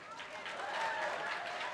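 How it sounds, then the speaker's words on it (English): Applause from a fashion show audience, a steady wash of clapping and crowd noise at moderate level with some voices mixed in, lasting under two seconds. "Give yourselves a round of applause."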